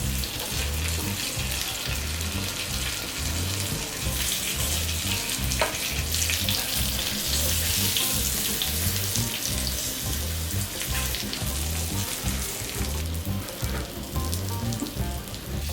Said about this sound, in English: When one side is done, turn the fishes and fry the other side.